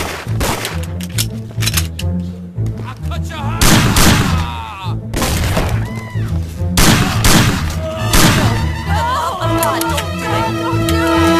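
Gunfire from the PS2 game Mafia: repeated sharp shots and bursts, loud and close, mixed with shouting voices and game sound over a background score.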